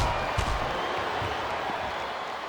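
A capacity arena crowd in the WWE SmackDown vs. Raw 2007 video game, during an Edge versus Undertaker Last Man Standing match, makes a steady, diffuse roar of cheering and clapping, with faint scattered thuds underneath.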